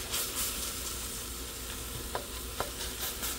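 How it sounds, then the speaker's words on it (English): Beef browns in a hot pan for a stir fry, giving a steady, dense sizzle close by. A couple of sharp spatula clicks cut through the frying. "Brown 500 gram of beef,"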